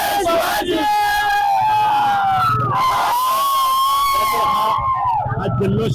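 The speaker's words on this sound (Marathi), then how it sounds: "तरुणांच्या मध्ये जल्लोष असणारा आपण पाहतोय" A young crowd at a Shivaji Maharaj Jayanti celebration chants and cheers in loud, sustained unison battle cries. The voices are near and fill the whole stretch, with rising shouts and a few breaks between phrases.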